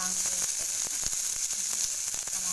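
Tomatoes fry without water in a hot pan, giving a steady crackling sizzle with scattered pops and a few soft stirring clicks.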